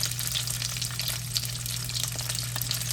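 Sausage frying in hot oil in a pan, a steady dense sizzle with crackling spatters, close and continuous with no talk, over a low constant hum.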